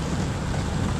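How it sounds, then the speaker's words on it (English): Heavy, steady rain after some fourteen hours of downpour during a flood, heard as a dense, continuous broadband wash with no breaks or voices. "It's been like this consistent heavy rain for about 14 hours, I suppose."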